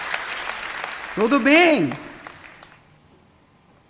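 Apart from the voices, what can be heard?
audience applause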